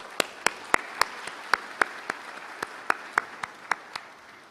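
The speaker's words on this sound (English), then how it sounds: "May I give a big clap to our former Prime Minister," A crowd at a business summit in Cambodia claps in scattered, uneven bursts, individual sharp hand claps standing out over a soft bed of applause that gradually thins out.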